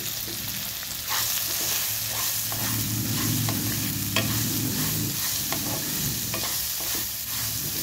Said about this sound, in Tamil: அது கூட கேரட் சேர்த்து நல்லா மிக்ஸ் பண்ணிக்கலாம்.